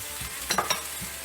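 Peppers tossed into a hot stir-fry pan with a little oil give a soft sizzle and a few quick clattering stirs and scrapes, close and brief.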